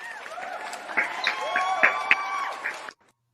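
Audience applause with scattered whoops, moderately loud, lasting a few seconds before cutting off abruptly to silence.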